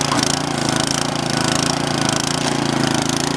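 An MTD snowblower runs steadily with its auger engaged, a loud, close, even engine drone with a rapid mechanical chatter and no misfires or popping.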